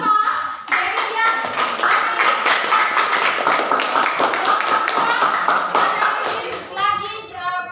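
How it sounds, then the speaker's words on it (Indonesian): Classroom applause for a student at a senior high school: dense, steady clapping from many hands fills most of the clip, with children's voices briefly audible at the start and end. "Tepuk tangan untuk Alfa."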